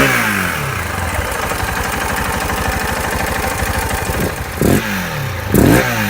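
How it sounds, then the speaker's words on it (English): KTM 690 single-cylinder motorcycle with a modified airbox, its intake chugging in a steady lumpy idle close up, then two quick throttle blips that swell and fall back. "So hopefully you'll be able to hear the difference in the intake noise."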